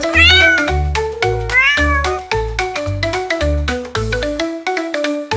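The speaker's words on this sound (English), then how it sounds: "Meow, meow, the cat." A cat meows repeatedly over a chiming, ringtone-like melody, the meows rising and falling in a steady rhythm.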